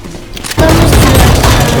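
Gunfire in the first-person shooter Valorant: after a quiet moment, a loud burst of rapid shots erupts and sustains, close and dense, with no talk over it.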